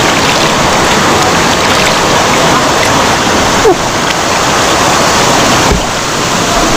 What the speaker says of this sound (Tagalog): Doon nanggagaling yung flow ng tubig.